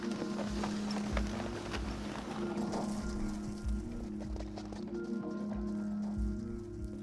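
Horse hooves clip-clop steadily as the animal pulls a horse-drawn cart, a continuous close rhythm of hoofbeats over a low rolling rumble and a constant hum.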